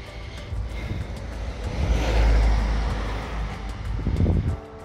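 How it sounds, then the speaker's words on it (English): A car passes along a road near a garden on a country walk, its engine and tyre roar swelling to a peak midway and then fading, with wind buffeting the microphone. "That's not a roller, but I'm not sure what car that is."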